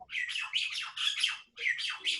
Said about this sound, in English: there are birds, all kinds of birds here